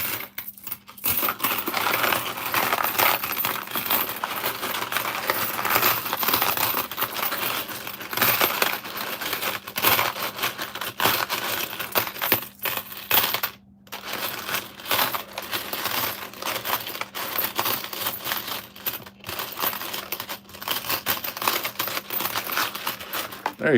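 Loose nickels and other coins pour, drop and clink continuously for over twenty seconds, a dense metallic jangling and rattling with brief pauses, close to the microphone.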